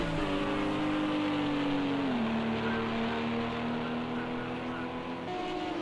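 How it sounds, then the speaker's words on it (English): LMP2 race cars in a sim racing game, one with a V6 engine, hold a steady, high-pitched engine drone with brief pitch drops at gear shifts. "You can hear the slightly different tone in the two cars"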